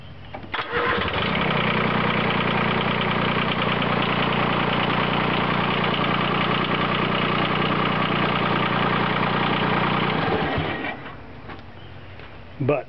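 A Grasshopper diesel mower engine, recently fitted with an electric fuel pump, starts and then runs at a steady, loud, even drone for about ten seconds before shutting down. A voice speaks briefly near the start.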